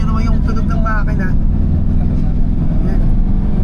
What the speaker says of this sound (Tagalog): Rinig nyo naman yung tunog ng makina.